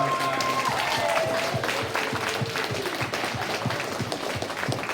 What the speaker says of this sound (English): if we could do a round of applause for Kate and her time here.